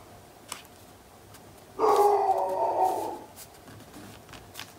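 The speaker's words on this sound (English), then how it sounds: "There's my guard dog." A guard dog lets out a single bark lasting about a second, at moderate distance over quiet background noise.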